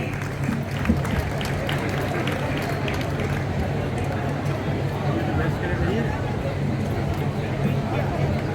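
Steady applause from a large crowd at a college annual medal ceremony, continuous and fairly loud, with voices and chatter mixed in throughout.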